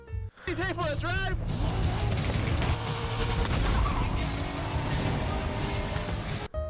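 A loud, steady Corvette C8 engine roar with shifting revs fills the whole stretch in Forza Horizon 5, with a brief voice at the start.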